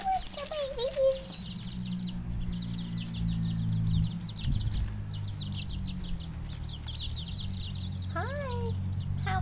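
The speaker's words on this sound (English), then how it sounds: "Hi, rooster babies." Chickens and roosters in a farmyard cluck softly and steadily in the background, with a few louder squawks near the start and end, while people talk quietly over the flock.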